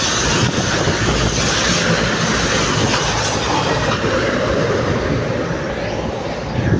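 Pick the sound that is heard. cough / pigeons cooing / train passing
train passing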